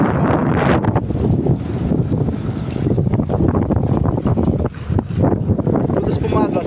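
Strong wind roars across the microphone in stormy weather at sea, with waves and surf churning underneath; the noise is loud and continuous, with brief gusty surges throughout.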